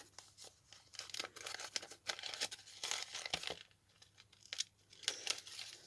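Adhesive tape is cut in a quiet room with a series of soft crinkling, tearing and snipping sounds in irregular bursts, faint and close, with no talk.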